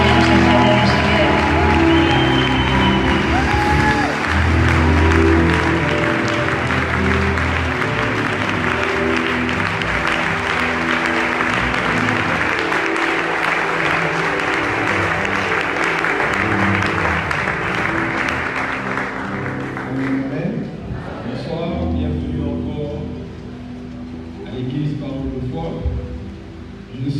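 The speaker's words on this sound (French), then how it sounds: "Nous le levons pour le recevoir et nous acclamons le Seigneur" A church congregation applauds and acclaims loudly and continuously for about twenty seconds, with voices under the clapping, before the noise dies away into scattered sounds and speech.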